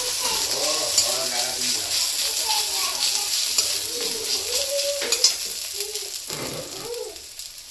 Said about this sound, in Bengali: সর্ষে শাকটা মা দিয়ে দিচ্ছে। এখন সর্ষে শাক দেওয়া হয়ে গেল, একটু নাড়িয়ে নিচ্ছে।